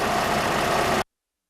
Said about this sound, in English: The engine may run rough for a few minutes while air is purged from the system.